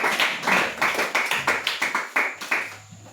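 A church congregation applauding for Sister Mélissa: a few people clapping in a loose, fairly quick rhythm, close and moderately loud, thinning out and stopping near the end.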